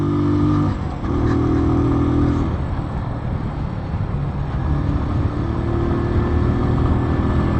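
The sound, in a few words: Keeway Cafe Racer 152 motorcycle engine climbing uphill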